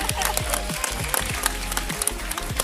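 An amphitheatre audience at a parrot show breaks into brisk, loud applause, with dense overlapping claps close by and a voice speaking over them.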